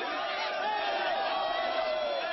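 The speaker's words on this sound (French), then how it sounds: "Le service d'ordre des jeunes patriotes a du mal à contenir la foule qui pousse." A large, excited crowd of protesters pushes and shouts in Abidjan, a dense continuous roar of many voices close by, with no single voice standing out.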